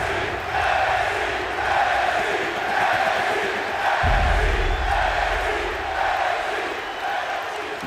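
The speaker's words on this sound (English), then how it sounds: "You can hear the fans cheering NXT, NXT." Video game wrestling crowd from WWE 2K chanting at an NXT show, a rhythmic, pulsing chant from a large arena audience that keeps going, with a deeper crowd rumble swelling halfway through.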